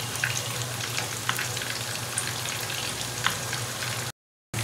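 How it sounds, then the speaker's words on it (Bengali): Chicken for a chicken burger fries in a pan with a steady, even sizzle and light crackles at moderate volume, broken by a brief silence just before the end, with no talking. "চিকেনটা দেখো ফ্রাই হতে হতে"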